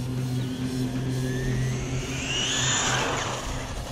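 An RLAARLO AM-X12 RC car on a 4S battery makes a 100+ km/h speed run, its high electric motor whine rising and sweeping past loudly near the end, over a steady low background hum.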